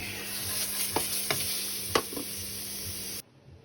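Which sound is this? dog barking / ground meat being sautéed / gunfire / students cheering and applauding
ground meat being sautéed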